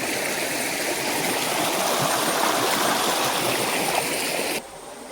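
Cold, clear stream water is crossed on foot in a Kerala pineapple plantation, giving a loud, continuous rushing and splashing wash that fills the clip, then drops away sharply near the end.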